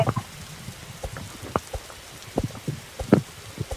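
Rain falls in the video game 99 nuit dans la forêt as a soft, steady patter with scattered louder drops throughout, heard faintly with no talking.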